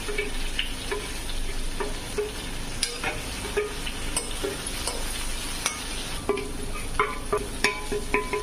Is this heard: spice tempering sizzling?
yes